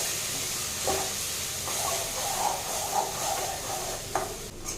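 Onion and tomato paste sautés in a pan with fenugreek and chili powder for a tamarind kuzhambu, giving a steady hissing sizzle with a few spoon knocks and stirring scrapes.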